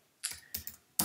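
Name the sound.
typing on a computer keyboard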